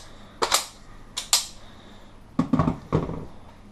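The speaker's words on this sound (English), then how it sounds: "an audible click too, which is nice to hear whether the mag's actually clearly in or not" An airsoft G&G ARP9 magazine is inserted and removed, giving several sharp close plastic-and-metal clicks and clacks in two quick clusters against a quiet room.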